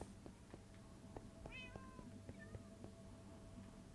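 A cat meows indoors, a couple of short faint mews partway through, heard under background noise and scattered knocks.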